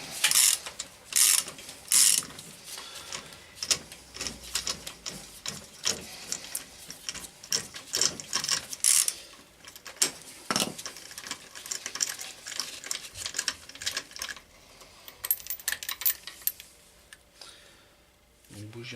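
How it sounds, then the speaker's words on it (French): A fine 16 mm ratchet spark plug wrench clicks in rapid bursts as plugs are loosened from an engine during cylinder head removal, sharp close ratcheting with short pauses between strokes. "On va retirer les bougies avec une clé à bougie de 16"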